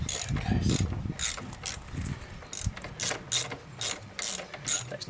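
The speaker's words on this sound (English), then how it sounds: "Should use a bigger ratchet or break apart." A ratchet works loose a tight 22 mm axle nut on a Yamaha SR125 motorcycle during a chain and sprocket change; close, quiet clicking in short bursts, with rustling handling noise between strokes.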